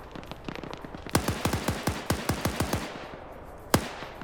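Rapid bursts of gunfire in a video game match, about a dozen sharp shots in a quick ragged string, then a pause and one final loud crack, with a faint earlier patter of distant shots underneath.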